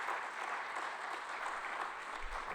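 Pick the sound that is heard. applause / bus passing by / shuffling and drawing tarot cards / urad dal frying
applause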